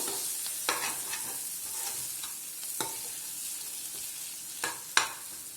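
Chicken liver sprinkled with coriander fries in a pan as a bright, steady sizzle, with scattered spatula scrapes and a few sharper knocks against the metal.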